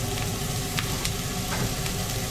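Finely cut peppers and minced garlic sizzle in a hot pan with a dense, even hiss. Occasional light scrapes of stirring come through close up.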